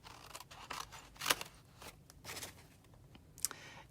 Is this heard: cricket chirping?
no